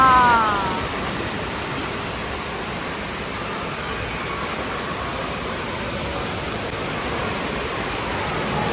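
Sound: water pouring down from a large tipping bucket

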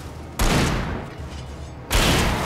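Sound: gunfire from shooting enemies in Alan Wake video game

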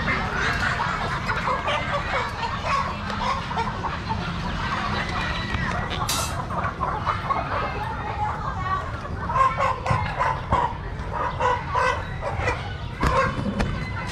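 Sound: chickens clucking at a market stall

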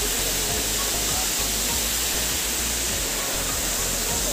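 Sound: Ashur Ghati waterfall

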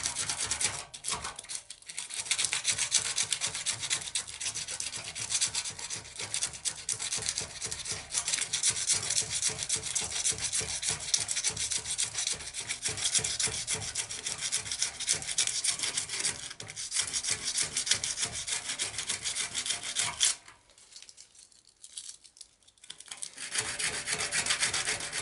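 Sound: sanding radiator edges with small piece of sandpaper

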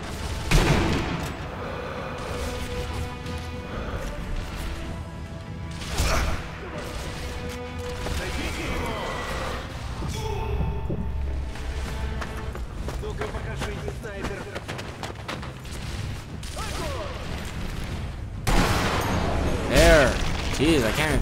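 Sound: gunfire in video game Sniper Elite V2

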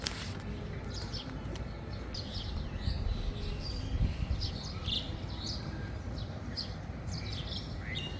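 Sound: birds chirping in the morning

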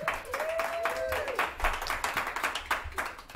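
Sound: audience applause

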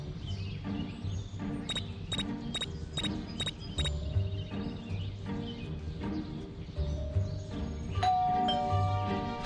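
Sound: doorbell ringing in Scary Teacher 3D video game

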